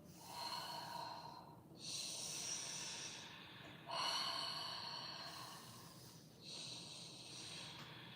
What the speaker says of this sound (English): So make your breath deep and audible.